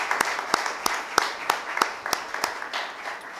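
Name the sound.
church congregation applause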